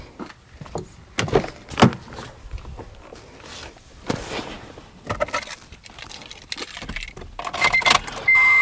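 Someone gets into an Acura during a front brake rotor job: keys jangle, a car door thuds and scattered clicks and rustles follow, close by with no talking.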